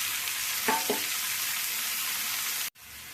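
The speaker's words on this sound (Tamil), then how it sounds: "வெங்காயம் நல்லா வதங்கிடுது இப்போ பீட்ரூட் நல்லா துருவி எடுத்தாச்சு" Onions and grated beetroot sauté in a pan, making a steady, moderately quiet frying hiss with a couple of small stirring clicks early on, cut off abruptly near the end, with no speech.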